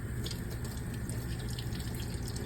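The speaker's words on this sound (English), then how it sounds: "Wash off your ginger." Ginger root being rinsed under a running kitchen tap while making red miso soup, a steady, close hiss of flowing water with a few splashy patters throughout.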